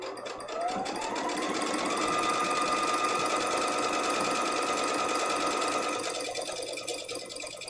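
A sewing machine stitches close along a fabric edge, a loud, continuous motor whine rising in pitch as it speeds up, then holding a fast steady rattle before easing slightly.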